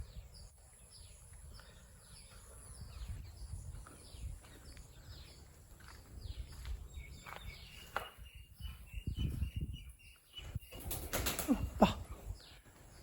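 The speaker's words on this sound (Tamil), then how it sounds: "பயமுறுத்தாங்கடா புறாக்கள்." Pigeons take off inside a decaying temple at Baburayanpettai, Chengalpattu, with scattered bursts of wing flapping that grow into a louder flurry toward the end, fairly faint over quiet ambience.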